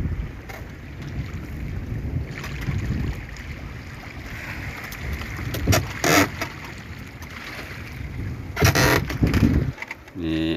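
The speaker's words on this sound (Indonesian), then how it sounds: "Kencang banget anginnya hari ini." Strong wind buffeting the microphone out on open water from a small fishing boat, a steady roar with gusty bursts and some knocking and splashing, while a voice talks over it.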